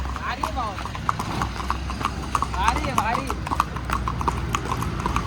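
Two horses, on their way to a wedding hall, clop their hooves in a steady, close, repeated rhythm under constant talking.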